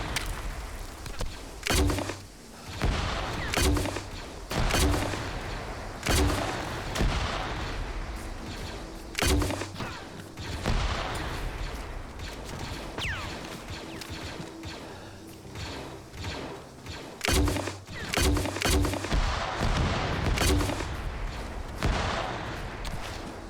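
Grenade launcher in a video game, repeated loud booming shots and blasts at irregular intervals over a busy mechanical game background, with no talk.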